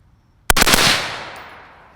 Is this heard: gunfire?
yes